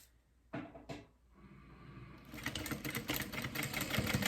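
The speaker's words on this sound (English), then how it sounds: "so we're top stitching on our vinyl this time around" After two short knocks, a sewing machine top stitching thin vinyl starts up and runs in a fast, even mechanical chatter, quiet and close.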